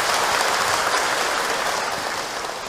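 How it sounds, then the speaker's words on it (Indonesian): Audience applause after an Islamic religious talk, dense and steady close-range clapping filling the whole stretch and tapering slightly at the end. "Tepuk tangan untuk Ustaz Encep."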